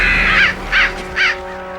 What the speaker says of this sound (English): The hooded crows are hungry too,